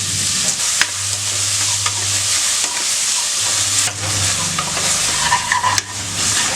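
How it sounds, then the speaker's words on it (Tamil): Onions and tomatoes sauté for a goat intestine curry, with a loud, continuous sizzle and repeated scraping strokes of a spoon against the pan, close up and without speech. "வெங்காயம் தக்காளி எல்லாமே இந்த அளவுக்கு நல்லா வதக்கிட்டோம்"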